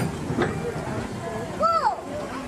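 Disneyland Railroad steam train rumbling and clacking along the track at a theme park, steady and moderately close, with a rising and falling whistle-like tone near the end and people talking over it.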